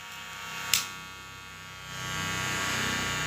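Two KM831 electric devices, a KM831 and a KM1031, give off a steady electric hum and buzz that swells louder in the second half, with a brief click near the start and no talking.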